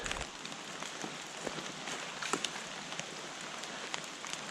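Rain falling outdoors in the Carpathian mountains during a fishing and mushroom-hunting trip; a steady, dense patter of drops hitting surfaces nearby, continuous throughout with no voices.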